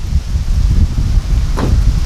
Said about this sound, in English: it's gotten windy and wet